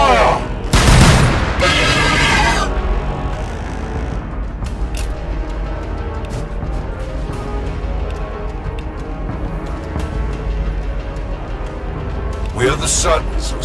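Gunfire in Warhammer 40,000: Battlesector, loud bursts of rapid shots and booms near the start and again at the end, with voices shouting over a busy battle backdrop in between.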